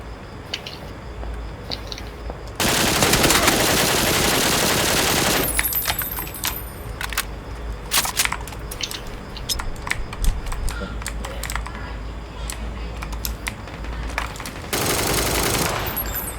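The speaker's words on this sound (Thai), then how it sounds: "ไอ้เคียบเบนยิงกูเว้ย" Bursts of automatic gunfire in the video game PUBG, with rapid shots in loud sustained volleys and scattered single cracks, mixed with keyboard clatter and a player's voice.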